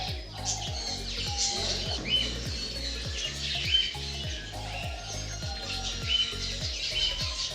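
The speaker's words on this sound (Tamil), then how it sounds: "நம்ம லவ் பேர்ட்ஸ்னு சொல்லிட்டு வீட்டில் வளர்க்குறோம் தெரியுங்களா? அந்த பேர்ட்ஸ் தான் அதிகமாக இங்கே இருக்குது." Flock of lovebirds in an exotic bird park, a busy chorus of overlapping high chirps and tweets with steady background chatter and a few faint voices underneath.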